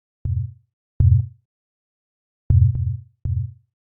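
An Ableton Operator synth plays dub techno minor triad chords as short, low, thumping stabs, four separated hits with uneven spacing and quick decays into silence.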